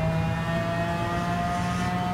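Racing car engine in Gran Turismo 7 during a Sport mode race, a steady sustained drone with tonal whine, holding a fairly constant pitch as the car speeds up gently, loud and continuous with no talking.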